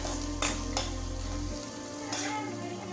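Onions frying in oil for a home-style Kerala chickpea curry, giving a steady close sizzle with a few sharp crackles and a brief stir of a spoon or ladle; a low hum fades out midway.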